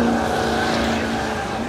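A car revving hard at a drag raceway during a burnout, engine roaring steadily up close with tire squeal blended into the dense noise.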